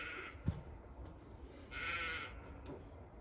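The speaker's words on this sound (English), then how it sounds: "The sheep are really active right now." Sheep bleating nearby during an outdoor session, a few short faint bleats scattered across the moment, one louder cry in the middle, over quiet background, no talking.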